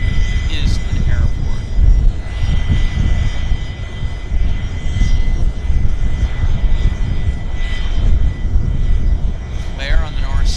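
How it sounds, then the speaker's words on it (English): A business jet at Vancouver International Airport gives off a continuous, loud engine roar from nearby, holding steady throughout with no clear pauses, while other broadband airport noise mixes in under it. "This BizJet's just making a lot of noise."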